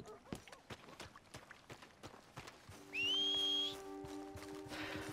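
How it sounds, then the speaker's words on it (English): A character in the Red Dead Redemption 2 video game whistles a short tune, a bright, clear sustained note of about a second rising over footsteps and horse-like ambient game sounds. "But I can still whistle a fine tune."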